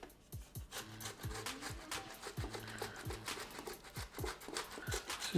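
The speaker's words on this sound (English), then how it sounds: "We're going to grate 4 big juicy tomatoes in there." Big juicy tomatoes are rubbed back and forth over a kitchen grater in quick, rhythmic rasping strokes, close and fairly soft, with a regular scraping patter throughout.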